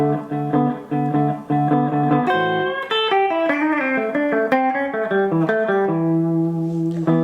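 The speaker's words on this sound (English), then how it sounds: "If I just made up a turnaround, it would sound like this." Electric guitar plays an improvised blues turnaround, a run of distinct single notes and double stops stepping through the phrase before resolving on a sustained final chord, clean and close with no talk.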